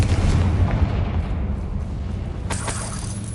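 A Confringo blasting spell goes off in Hogwarts Legacy, a loud booming burst with a rumbling low tail, then a sharper crack near the end, all set against steady game ambience.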